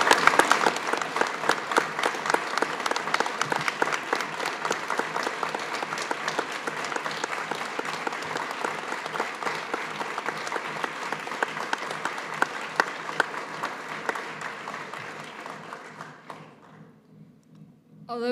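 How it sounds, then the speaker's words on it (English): Sustained applause from a graduation ceremony audience at the German International School in Washington D.C., a dense steady wash of many hands clapping that holds for about sixteen seconds, then fades out near the end. "he really, really deserves this huge round of applause"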